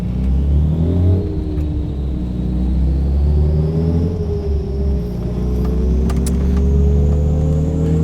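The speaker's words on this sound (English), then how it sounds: "Let's get the engine running now in fourth gear at 2500 RPM" A car engine runs on a dynamometer in fourth gear at a steady 2500 RPM, a loud constant low drone with a slowly rising whine, no talk.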